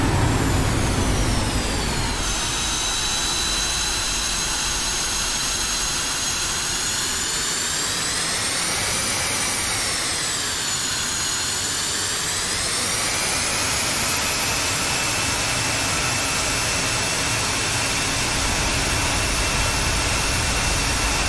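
An F-5E Tiger II jet engine in the DCS flight simulator, roaring steadily with afterburner, a loud, sustained broadband blast overlaid with a whining tone that slowly rises and falls in pitch.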